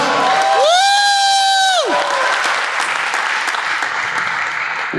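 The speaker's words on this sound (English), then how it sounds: "I want to give a big round of applause to all of our veterans in the house tonight" A concert crowd at a church venue applauds and cheers for veterans, loud and dense clapping with shouts and whoops, while a sustained, sliding tone rings over the start before the noise of the crowd carries on alone.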